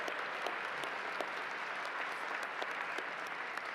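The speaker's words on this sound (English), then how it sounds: "They deserve a round of applause." A gala audience applauds steadily and densely, many hands clapping close and loud without a break for the whole stretch.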